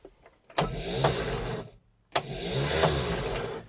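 A car engine cranks on a worn, faulty starter motor in two separate bursts, each about a second and a half of loud, rough whirring grind with a brief silent pause between.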